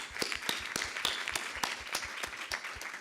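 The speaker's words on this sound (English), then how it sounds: "I would ask for a round of applause for all of them" Panelists at a youth and security conference get a modest round of applause: a small audience clapping in a thin, fairly quiet, irregular patter with individual claps standing out.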